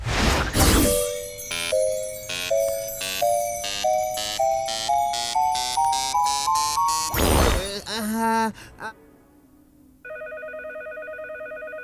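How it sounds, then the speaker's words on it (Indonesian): Cartoon emergency cheese phone from a Teenage Mutant Ninja Turtles episode: a run of rising push-button dial tones, a loud burst, a whooshing slide, then a steady electronic ring tone, loud and close with no talk. "Telepon keju benar-benar darurat."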